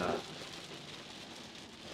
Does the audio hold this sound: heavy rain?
yes